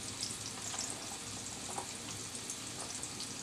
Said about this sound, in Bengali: পেঁয়াজটা ভাজা হতে হতে আমাদের সাথে আমি মটরটা শেয়ার করে নিচ্ছি।